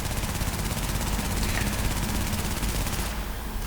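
MP5 submachine gun from the Navy variant in The Division fires fully automatic on a shooting range, a continuous, very fast, dense stream of loud shots that ends abruptly near the end.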